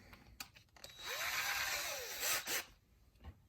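A drill bit whirs briefly as it widens a hole in a piece of styrene, making a close, buzzing grind that rises and falls over about two seconds, framed by a few quiet clicks and handling taps.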